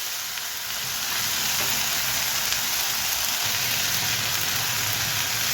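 Tamarind juice hits a hot frying pan of cucumber chutney, producing a loud, continuous hissing sizzle that holds steady close up, with no talk.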